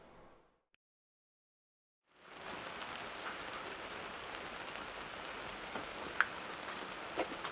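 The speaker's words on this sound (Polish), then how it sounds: "Pada dzisiaj deszcz." Steady rain hissing on a camper awning after a brief near-silence, with a few louder drips and taps standing out.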